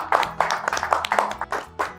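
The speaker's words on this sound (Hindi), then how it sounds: "एक दूसरे के लिए ताली बजाइए।" A small group of people clapping for each other, a few distinct irregular claps in quick succession, close and clear.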